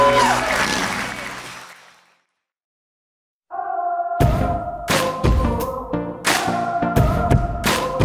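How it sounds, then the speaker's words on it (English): Wedding guests at Dulany's Overlook in Frederick, Maryland applaud in a brief burst that fades out within two seconds, followed by a pause and then music with struck piano-like chords. "a great big round of applause for our groom and his mother"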